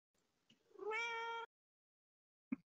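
A pet cat gives one drawn-out, tonal meow at close range in a quiet room, and a short, faint chirp follows after a pause.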